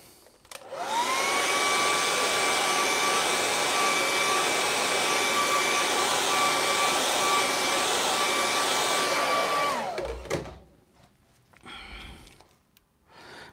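A hair dryer blows on wet paint on a waterfall painting, a loud steady whine with a clear tone holding for about nine seconds before it cuts off, leaving quiet handling noise.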